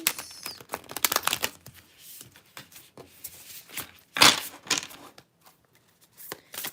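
Tarot cards riffle and flutter in quick, crisp bursts, with scattered taps and soft rustling between them, close by and fairly quiet.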